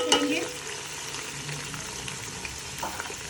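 Sliced onions fry in half a cup of ghee in a large pot for chicken pulao, with a steady close sizzle and occasional scraping stir sounds.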